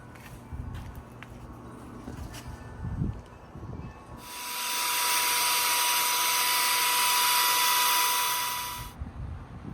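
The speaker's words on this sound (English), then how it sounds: "I'm using a 3-inch wire wheel" A high-pitched, hissing whine of a 3-inch wire wheel on a high-speed drill, used on a car valve cover, runs steadily for several seconds after quieter handling noises.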